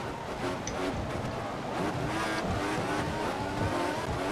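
A Formula racing car in a Monaco Grand Prix video game roars at close range, engine droning continuously with a brief squeal as it brakes hard, steady and fairly loud with no talk.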